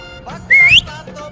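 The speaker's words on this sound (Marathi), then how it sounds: "मित्रांनो घोड्याला शिट्टी वाजवलं" A single short, rising whistle is blown at a horse. It sounds loud and close and lasts about a third of a second amid quiet background.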